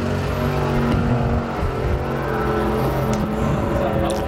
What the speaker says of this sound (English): Something does not sound healthy on that car.